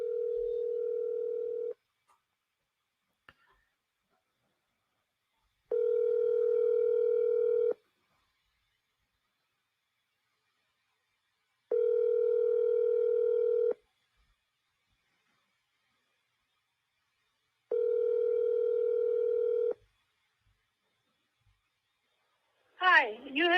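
A phone call to a realtor's number rings out in four evenly spaced ringback tones, each about two seconds long with long silent gaps between, loud and clear, followed at the end by the start of a recorded voice answering.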